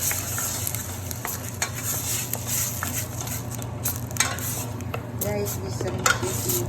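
Ingredients for a Serbian beef stew are stirred in hot oil in a pot, with a steady sizzling fry and continuous scraping and clinking of a utensil against the pot throughout.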